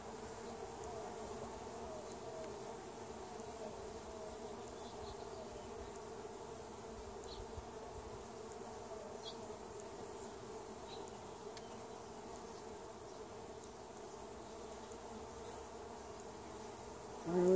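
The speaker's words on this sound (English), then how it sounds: "See, a lot of these young bees, they can't fly yet." Honey bees buzz steadily in a continuous, even drone during an open hive inspection, with occasional individual bees passing closer. No one speaks.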